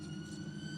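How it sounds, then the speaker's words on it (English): The Aston Martin safety car's siren wails steadily through the pit lane at the Italian Grand Prix F2 race, a sustained tonal note under a low engine rumble, heard from a distance. "That is the Aston Martin safety car, just alerting people in the pit lane that it's coming down with the whole field behind it."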